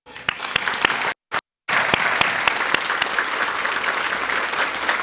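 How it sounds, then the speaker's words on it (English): Audience applause at a charity luncheon honoring a low vision rehabilitation director, loud and close with many sharp individual claps, briefly cut out near the start before resuming strongly and steadily. "At this time, will you join me in applause?"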